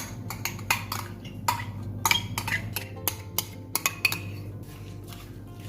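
Metal utensils clink and tap sharply against a bowl as a cheese and raisin mixture goes onto chopped apple, a close series of irregular clatters over a steady low hum.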